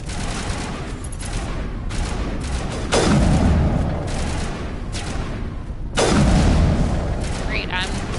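Sniper rifle shots in the Mass Effect video game on Eden Prime, two heavy booming reports a few seconds apart with long ringing decays, over a constant rumbling battle bed.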